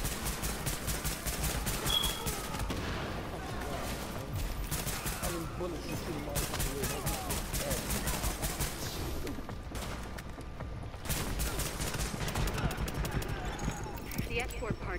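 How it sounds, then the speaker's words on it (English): Rapid, heavy gunfire from a rooftop gunner in The Division, with dense bursts of shots running nearly throughout and a brief lull midway, mixed with game noise and voices talking over it. "The escort party's taking heavy fire from the roof."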